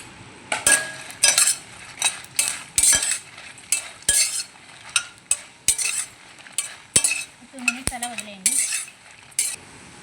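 Spices fry in a pan with oil while a spoon stirs them for coriander pickle, giving repeated sharp metallic scrapes and clinks against the pan over a faint background sizzle, close up.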